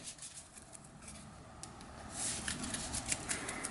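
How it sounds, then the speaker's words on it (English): A tarot card deck gets a quick shuffle, a soft papery riffle and flutter of cards that grows a little busier toward the end. It stays quiet and close, with no voices. "So we're just giving the tarot deck a quick shuffle."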